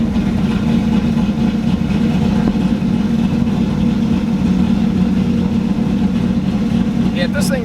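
A car engine runs at a high idle with low manifold vacuum. It gives a steady, continuous rumble with no clear revving, close by and filling the whole stretch.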